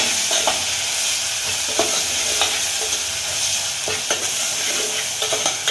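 Salt being stirred into onions frying in a pan for a chicken tamarind curry, a dense steady sizzle with regular light scraping strokes of the spoon, close and loud, no talking.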